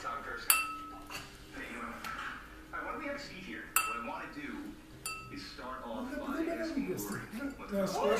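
Crystal glasses clink and chink sharply several times as they are handled and set on a kitchen counter, with people talking throughout.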